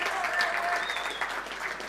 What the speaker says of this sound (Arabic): صفقوا على راسكم